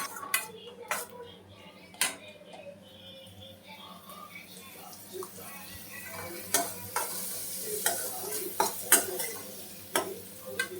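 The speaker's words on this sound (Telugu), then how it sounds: "కొద్దిగా మసాలాలు ఫ్రై అయ్యేంత వరకు ఫ్రై చేసుకోవాలన్నమాట." Masala spices fry in a generous amount of oil for an egg curry, with a soft background sizzle broken by sharp clinks and scrapes of a spoon stirring against the pan, growing busier toward the end.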